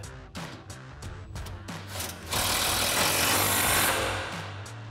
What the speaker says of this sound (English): We'll tighten up our top mounting bolt first, again with our 15mm socket on our impact